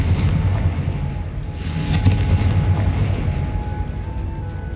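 Confringo blasting spell in Hogwarts Legacy: a loud, deep, rumbling explosion that swells and sustains with a roaring low boom and crackling debris, alone without talk.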